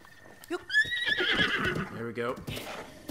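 A wild horse whinnies loudly in a rising then falling neigh, followed by snorting, with someone speaking over part of it, in The Legend of Zelda: Breath of the Wild.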